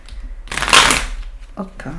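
Tarot cards shuffled in a quick rustling riffle of about half a second, then softer card handling, with talking before and after.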